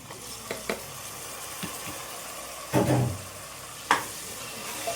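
Two cut tomatoes frying with a steady sizzle in a pan for drumstick-leaf dal, with a few scraping stirs and bumps of a spoon against the pan, close up and without talk.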